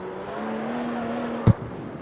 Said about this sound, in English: Can you hear the engine being different?